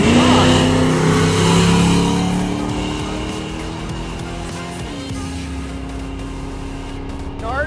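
An index-class drag race car roars loudly at close range on an eighth-mile strip, its pitch climbing then shifting as it accelerates away, with a steady high whine throughout.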